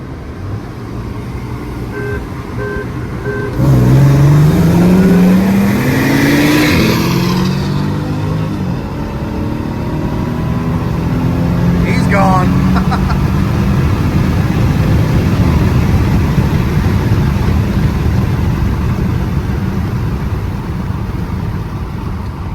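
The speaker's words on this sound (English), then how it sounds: "when that turbo kicks in, he's gone" A C32 AMG and a 570 hp Porsche 911 Turbo S race side by side, engines roaring loud as they accelerate hard, revs climbing and shifting, then a steady wind-swept roar as the cars pull away.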